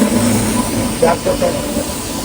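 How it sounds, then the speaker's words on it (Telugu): The Sheshadri Express rumbles steadily close by as it arrives at a station, with faint rhythmic clatter and a voice speaking briefly beneath the noise. "ట్రైన్ వచ్చింది శేషాద్రి ఎక్స్ప్రెస్"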